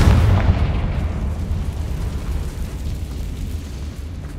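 A Confringo blasting spell explodes in the Hogwarts Legacy video game, a loud, deep boom that rolls into a rumbling, slowly fading tail with no voices.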